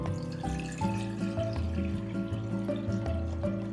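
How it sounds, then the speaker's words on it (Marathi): Water runs from a tap into a metal pot set on a gas stove for boiling drumsticks, a continuous close trickle with ringing resonance and small splashes throughout. "आता गॅसवरती आपल्याला एक भांडं गरम करायला ठेवायचे आणि त्यामध्ये पाणी घ्यायचे"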